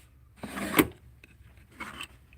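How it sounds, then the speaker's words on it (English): A jewelry box's sliding drawer pops down with a brief wooden rub and knock, followed by a softer second scrape, close up and fairly quiet with no voices. "these two drawers are just that sliding drawer thing that pops down"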